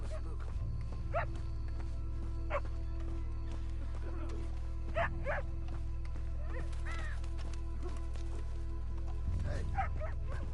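Dog barking in Red Dead Redemption 2, a few short sharp barks and yips spaced apart at moderate distance over a steady low ambient rumble of the game world.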